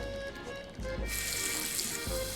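Running kitchen tap water in a comedy point-and-click game, a steady broadband hiss of pouring water that switches on after a brief pause and flows continuously to the end.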